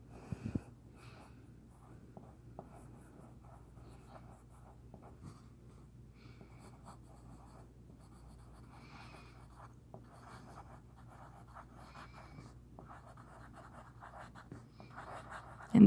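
Pencil or pen scratching out a sentence by hand on paper for a second grade writing lesson, a soft continuous scribbling texture at close range with brief pauses, fairly quiet over a low steady hum.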